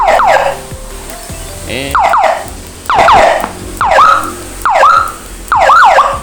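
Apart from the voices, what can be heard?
siren from Whelen IC handle V2 200W siren module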